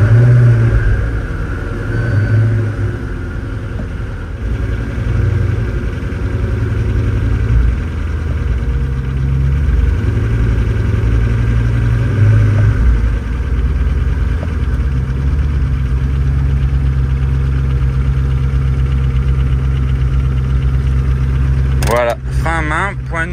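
A car engine idles steadily as the vehicle is put into reverse, a low continuous rumble holding throughout with people talking over it.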